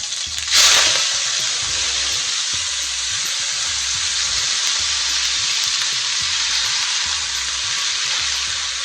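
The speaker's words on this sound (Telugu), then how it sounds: "ఇట్లా సపరేట్గా నూనెలో పాలకూరని వేడి చేసుకుంటాను" A sharp loud hiss as spinach leaves hit hot oil in a kadai, settling into a steady, even sizzle of frying that continues without pause.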